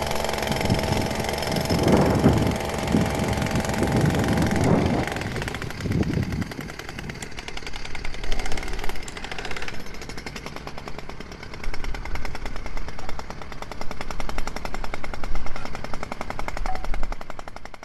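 Rapid automatic gunfire in a video game battle, loud bursts early on that fade into quieter sporadic shooting and rumbling mechanical noise.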